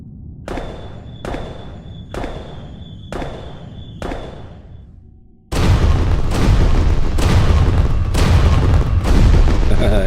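Fireworks boom in a steady series of loud, sharp blasts roughly every second, the first few separated by brief decaying tails, then a denser, continuous barrage of rapid explosions.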